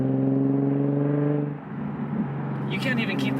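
Stillen supercharged Nissan 370Z with a titanium exhaust accelerating hard, its loud, steady engine drone rising briefly before dropping into rougher tire and road noise, with people talking over it.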